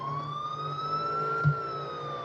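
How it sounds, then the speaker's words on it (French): A steady wailing siren sounds close and loud from the new Nissan GT-R Skyline, a single rising-and-falling tone with bright harmonics and a brief thump partway through. "je coupe la sirène pour pas gêner les joueurs"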